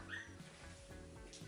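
A puppy whimpers faintly from a playpen downstairs, its thin, high cries rising over a low, steady indoor background for about a second and a half.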